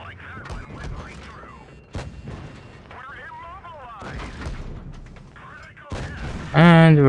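Tank cannon fire in a video game booms repeatedly under steady voice chatter and mechanical game noise, with a loud burst near the end.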